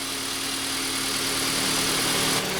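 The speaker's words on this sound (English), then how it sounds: "I'm going to let it warm up so that I can do the idle relearn process" Honda Civic engine, 2001–2005 model, idling steadily while warming up after a TDC sensor replacement, a loud, continuous close-up hum with even vibration throughout.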